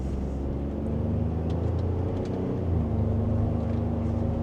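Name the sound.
Ford F150 truck accelerating in sport mode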